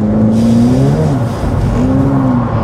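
Ferrari F8 Tributo twin-turbo engine held at a loud steady roar while drifting on a track, the pitch dipping and climbing again as the car slides through a left-hand corner.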